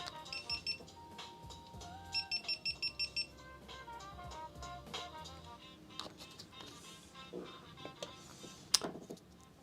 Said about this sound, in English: So the beep, beep, beep is because my overhead camera has decided that it needs to think for a few minutes.